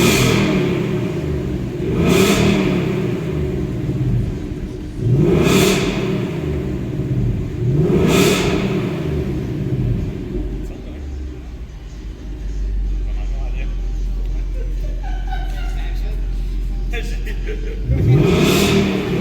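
A 2018 Ford Mustang GT fitted with an H-pipe exhaust revs hard four times, each loud rising bark falling back to a deep idle rumble, with a low steady burble between the bursts.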